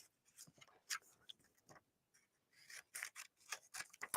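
Scissors snipping through paper photo prints, a run of short crisp cuts and rustles in uneven bursts, close by and fairly quiet, with no talking.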